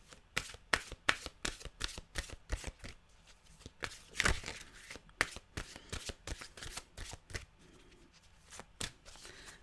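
A deck of mantra cards being shuffled by hand, with quiet, close, rhythmic riffling snaps and soft slides repeating steadily and no voices.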